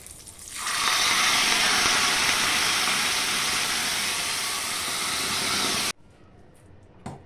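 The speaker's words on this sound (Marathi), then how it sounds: "छानपैकी उकळी फुटली आहे." Gojju, a sweet, tangy and spicy chandramandala mixture with asafoetida, boils loudly in a pan, giving a steady broadband hiss and bubble for about five seconds before dropping off abruptly to near quiet.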